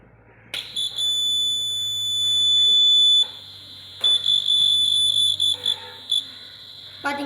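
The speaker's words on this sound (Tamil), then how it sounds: "இது அலாரம் அடிக்கிறதுனால மக்கள் புரிஞ்சுக்கலாம் நம்மள்கிட்ட ஆக்சிஜன் இல்லை" A homemade CO2/O2 level indicator alarm inside a closed car, dipped in ice water, sounds a loud, shrill continuous electronic beep that then breaks into a rapid series of intermittent beeps, over a low steady hum.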